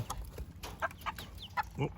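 Several quiet clucks from meat chickens come in short, scattered bursts over a soft outdoor background.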